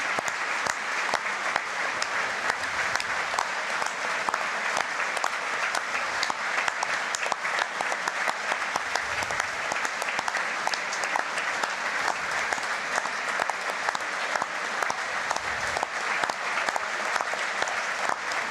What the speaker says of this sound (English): Please join us in a moment's applause, which will start and stop on the referee's whistle